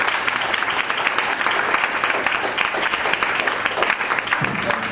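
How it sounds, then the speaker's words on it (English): A roomful of listeners claps steadily and fairly loudly after a talk, a continuous wash of applause lasting the whole few seconds. "Let's give these guys a big round of applause."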